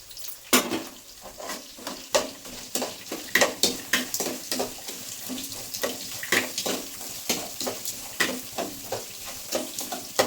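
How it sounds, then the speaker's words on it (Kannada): Onions frying in a pan at home, with a steady close sizzle broken by about a dozen sharp spatula scrapes and stirs at an uneven rhythm, and no voices. "ಈರುಳ್ಳಿ ಹಾಕ್ತಾಯಿದ್ದೀನಿ ಈರುಳ್ಳಿ ಚೆನ್ನಾಗಿ ಫ್ರೈ ಆಗಬೇಕು"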